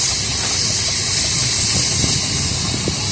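Steam traction engine, a Wallace and Vance, towing a water cart around the main ring of a Cornish steam rally; a steady loud hiss of steam over a low rumbling chug with faint clanks throughout.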